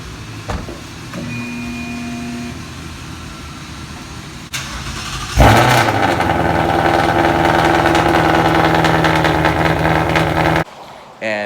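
A 2018 Ford Mustang GT with a new 3-inch X-pipe exhaust is started with a sharp crank and loud bark, then settles into a deep, rumbling idle close by before cutting off; a voice speaks briefly beforehand.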